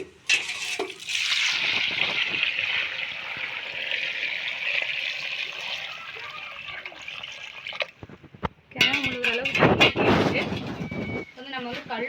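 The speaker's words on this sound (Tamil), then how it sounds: "கிழங்கு முழுகிற அளவுக்கு நம்ம வந்து தண்ணி ஊற்றிக்கலாம்" Water is poured over palm tubers in a cooking pot at a village cooking spot, with a long steady splash followed by shorter gushing pours. A person talks and birds call faintly nearby.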